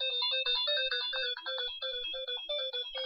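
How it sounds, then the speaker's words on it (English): A phone ringtone plays a repeating electronic melody of bright tones in a steady rhythm, moderately quiet and alone without talk. "my phone's going off."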